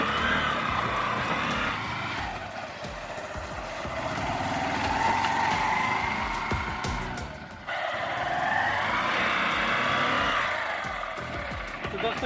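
A vehicle stuck on rough ground near Tipakhol Dam in Raigarh has its engine rev repeatedly, the strained drone swelling and easing in long surges, while someone talks over it.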